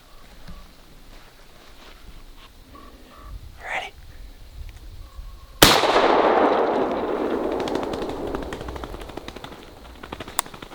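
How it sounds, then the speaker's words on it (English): A single sharp, loud shotgun blast rings out in woods while hunting a fleeing ruffed grouse, with a long echoing decay after it. Faint rustling and footsteps come before the shot. "As soon as he starts fleeing, I'm just gonna lift up and shoot"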